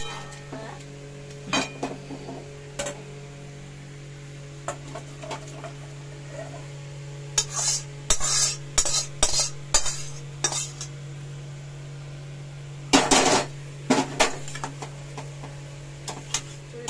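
A spoon stirs and scrapes green jackfruit curry (echor dalna) in a pan: scattered clinks, then two clusters of rapid scraping strokes over a faint steady hum.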